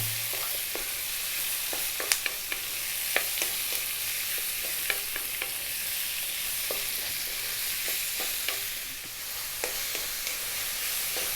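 Pork loin stir-fries in a hot pan over high heat, a steady sizzle with frequent sharp scraping and clinking as the meat is kept moving, close by and without talk.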